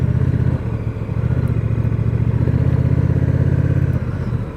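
A Honda Rebel 1100 motorcycle is ridden during low-speed practice drills, its engine a loud, steady, throbbing drone heard up close without a break.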